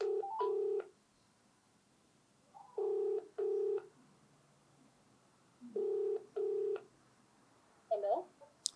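Telephone tones sound in paired bursts, two clean electronic beeps repeated three times with quiet gaps between, like a ringback, followed by a brief garbled burst at the end. Close and clear with no talk.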